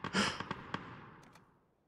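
A few sharp gunshots in a video game, a burst of several quick reports followed by two fainter distant cracks, fading into quiet.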